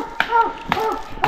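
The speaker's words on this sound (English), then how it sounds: "beat on the bottom of the tree" A few sharp knocks against the base of a tree trunk during a coon hunt, spaced about half a second apart, with a voice murmuring between them.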